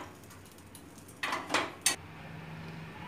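Baati being turned over in a metal pan, a few sharp clinks and scrapes of utensil against pan, close and fairly loud against a quiet background.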